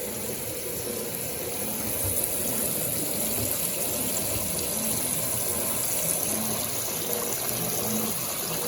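A Brastemp Eggo 1 kg mini washing machine runs with a continuous, steady rush and splash of water, loud and close, with a high hiss above it.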